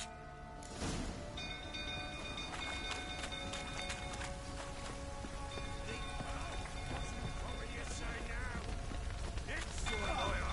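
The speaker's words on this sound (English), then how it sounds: "Looks like rain." Steady rain falls with pattering drops in The Witcher 3 video game, while tonal game sounds and a few voices come and go over the downpour.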